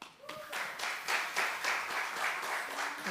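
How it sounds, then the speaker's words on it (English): A church congregation at a Sunday service claps for Megan, a brief burst of applause that starts after a faint voice and keeps a steady, moderately distant wash of hand claps. "Okay, can we clap for Megan?"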